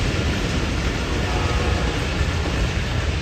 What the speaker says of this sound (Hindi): रेलगाड़ी जा रही है